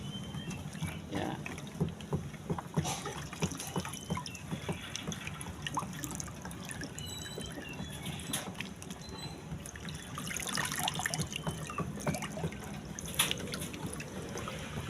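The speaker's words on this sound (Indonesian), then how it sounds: "air yang mengucur dari keran itu juga bisa bagus itu ya" Water trickles and splashes steadily from a tap, with irregular drips and gurgles, fairly close and moderately quiet throughout.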